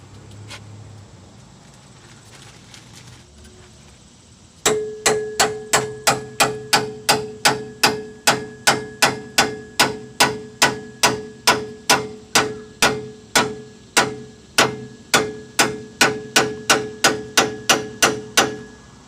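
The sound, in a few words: small sledgehammer striking a Jeep steering knuckle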